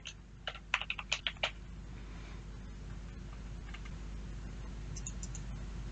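Quick keystrokes on a computer keyboard: a short burst of about six crisp, close clicks in a quick rhythm, then a few scattered, fainter taps over quiet room noise.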